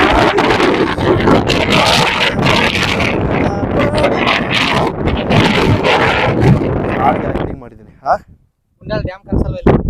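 Strong wind on the top of Kailasa Siddeshwara hill roars and buffets the microphone loudly and continuously, then drops away near the end as voices speak.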